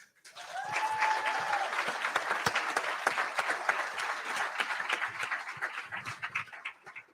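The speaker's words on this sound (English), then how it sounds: "I'll ask you by round of applause, if we did these events for women's volleyball," Sustained applause from a large crowd at a brunch honoring a 1994 national championship team, dense steady clapping filling the room with a few whistles near the start, holding loud throughout.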